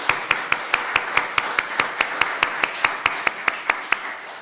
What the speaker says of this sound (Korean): 잘 다녀오시라고 박수로 환영하겠습니다